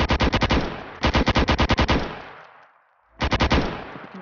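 Rapid automatic gunfire from an ACS weapon in Roblox Studio, fired in three loud bursts of quick, evenly spaced shots with a short pause between the second and third bursts.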